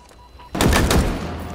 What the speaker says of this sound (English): hail of gunfire.